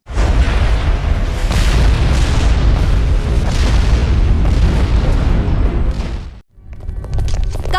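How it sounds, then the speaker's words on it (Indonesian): Heavy rumbling explosions tear through a city under attack by Amon in an animated series, a sustained loud roaring blast that cuts off abruptly near the end before debris-like crackle resumes. "Kami mendengar ledakan. Ada apa?"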